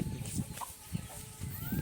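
Hens with their chicks on a farm, giving soft, intermittent clucks and low calls, fairly quiet and close, with a few higher peeps scattered between.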